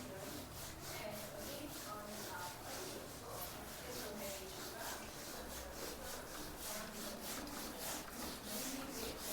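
Rubbing out a drawn figure during a Class 8 maths lesson: continuous close, faint scratchy back-and-forth strokes in an even rhythm throughout.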